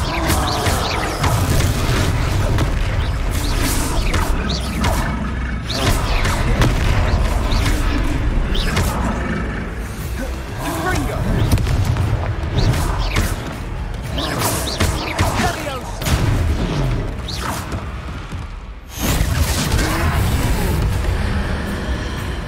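Confringo blasting spells in Hogwarts Legacy set off a long run of repeated heavy booms and crashing impacts, loud and close, layered over continuous battle noise with brief pauses between blasts.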